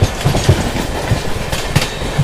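An LHB-coach Sapthagiri Express rolls along near Tiruvallur, with a steady rumble broken by repeated low wheel clacks over rail joints and a faint high squeal of wheels.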